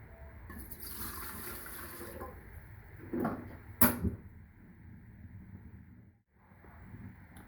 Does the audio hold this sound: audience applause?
no